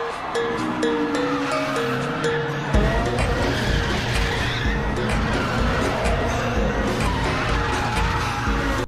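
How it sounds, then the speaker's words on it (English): A vehicle drifts and skids in the space game Heavenly Bodies, a continuous loud engine roar and tire-squeal texture building and holding steady, with a voice talking over it. "Bro, watch it drift."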